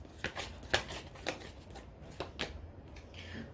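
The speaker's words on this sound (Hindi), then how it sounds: "ऑलराइट, कुछ और कार्ड्स ले लेते हैं गाइस।" Tarot cards are shuffled and drawn by hand, making a quick series of close, crisp riffles and flicks, with several sharp snaps spaced irregularly over a few seconds.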